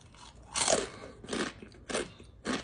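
Original-flavor Takis rolled tortilla chips crunched and chewed up close, four loud crackling bites in a steady rhythm separated by short quiet gaps, no talking.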